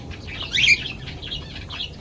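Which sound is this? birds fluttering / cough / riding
birds fluttering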